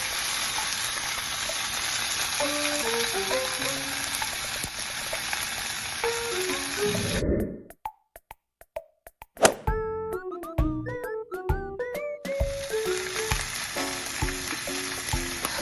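A thick block of salmon sears in a frying pan, a loud steady sizzle that cuts out abruptly for a couple of seconds while it is handled, with light taps and clinks, then resumes at full strength.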